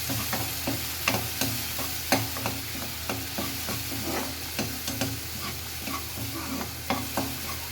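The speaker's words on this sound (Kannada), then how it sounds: "ಇದು ಹಸಿ ಸ್ಮೆಲ್ ಹೋಗೋವರೆಗೂ ನಾವು ಫ್ರೈ ಮಾಡ್ತಿರ್ಬೇಕು." Masala paste for curd sambar frying in a pan while being stirred: continuous hissing sizzle with frequent rhythmic spatula scrapes and knocks, close and fairly busy throughout.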